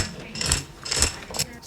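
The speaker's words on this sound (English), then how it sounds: "This is the toy tambourine." A toy tambourine sample rings out in three short jingling shakes, close and crisp, with no voice over it.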